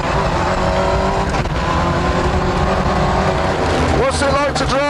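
A Ford Escort RS Cosworth rally car drives fast on wet ground, its engine roaring loudly and steadily close by, with a rising whine near the end and a voice talking over it.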